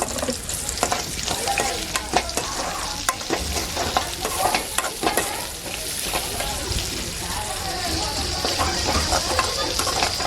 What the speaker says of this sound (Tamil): காஞ்ச மிளகா கருவேப்பிலை இதெல்லாமே போட்டுட்டு நல்லா வதக்கி எடுத்துக்கணும்